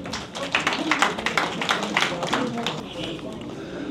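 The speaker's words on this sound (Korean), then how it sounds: "뜨거운 박수 부탁드리겠습니다." An audience at a spring rhythm dance club festival applauds, with a burst of dense clapping that swells early and tapers off, while a voice speaks over it.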